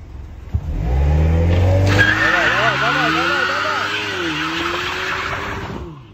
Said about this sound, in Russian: Трогаемся с буксами.